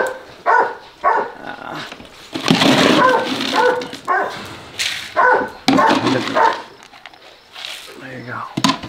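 Hunting hound dogs kept for bear hunting in Idaho bark and yip in repeated bursts at close range, some barks overlapping, with a little speech mixed in among them.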